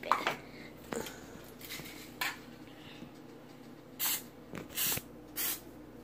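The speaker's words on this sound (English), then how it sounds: "I just need the spray so I can spray the measuring cup" Several short hissing bursts of an aerosol cooking spray into a measuring cup, close up, with a few light clinks of kitchenware between them.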